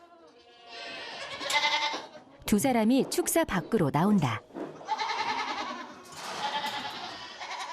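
Small black goats bleat loudly and repeatedly in a livestock pen, the calls close and wavering, with people talking before and after.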